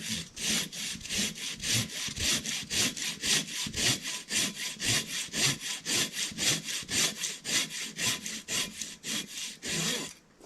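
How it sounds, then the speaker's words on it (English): A hand saw rasps through wood in steady, rhythmic back-and-forth strokes, loud and close, continuing without a break, during outdoor trail clearing in Alberta, Canada. "as I'm cutting it, I can feel the wood starting to squeeze on it"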